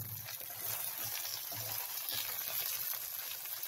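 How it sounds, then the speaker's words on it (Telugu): Gongura leaves frying gently in a pan over a low flame, a soft, steady crackle and faint sizzle running continuously with light stirring noises, no voices. "స్టవ్ని లో ఫ్లేమ్లో పెట్టుకొని ఇలా మొత్తం అంతటిని ఫ్రై చేసుకోవాలి"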